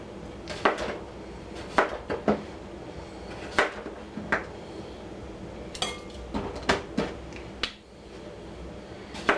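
A knife slices through fresh cucumbers in sharp, separate clicks on a cutting board, irregular and close, with no talking.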